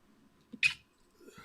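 A single short, sharp sneeze bursts out in a quiet room, followed by faint murmuring.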